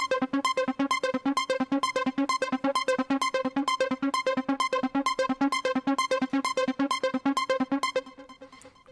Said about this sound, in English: Next we have our second melody that sounds like this.